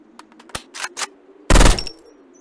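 ZZ Vel rifle firing in the video game Zero Sievert: a few scattered single shots, then a loud, tight burst of rapid automatic fire, heard up close with no talking.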